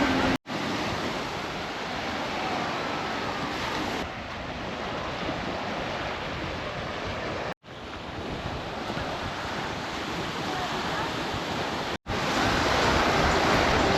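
Surf washing in on a busy beach at Stalis, Crete, a steady broadband wash with wind buffeting the microphone, continuous and fairly loud with brief drops in level.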